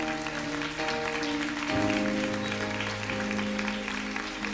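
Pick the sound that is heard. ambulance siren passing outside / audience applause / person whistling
audience applause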